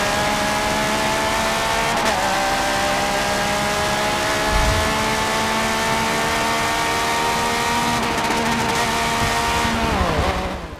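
A Pagani Zonda races in the video game Forza 7, its engine holding a loud, steady high-revving roar that shifts pitch through gear changes, with a brief dip near the end as it eases off.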